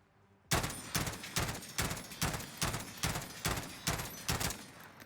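M16 burst rifle firing in Call of Duty Warzone, about eleven loud, evenly spaced sharp shots in quick succession after a brief quiet start, each crack trailing a short echo.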